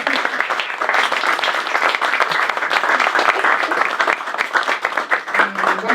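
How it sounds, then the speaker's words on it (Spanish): An audience at a talk on investigative journalism applauds a guest steadily and fairly loudly for the whole stretch, dense clapping with no pauses and no voices on top. "Te agradecemos, Mauricio, le damos un aplauso aquí al invitado."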